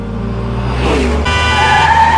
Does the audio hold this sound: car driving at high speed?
yes